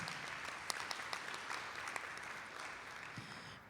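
Applause from a school meeting audience honoring several schools, a steady wash of many hands clapping at moderate distance, fairly quiet, with a few sharper claps standing out and no talk.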